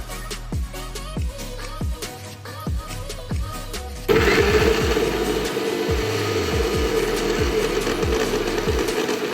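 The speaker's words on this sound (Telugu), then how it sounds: "ఒక మిక్సీ జార్ తీసుకొని అందులోకి ముందుగా మనం శుభ్రం చేసి పెట్టుకున్న వేపాకును అయితే అందులో వేసేసుకొని మెత్తని పేస్ట్ లాగా అయితే చేసేసుకోవాలి." A mixer grinder jar blending neem leaves into a smooth paste, starting with short bursts and then settling into a loud, continuous whirring grind.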